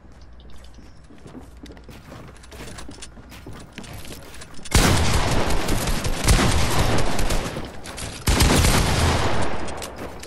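Gunfire from a Fortnite match: quieter scattered shots at first, then a loud sustained burst of rapid automatic fire with a second heavy volley near the end, with no talk.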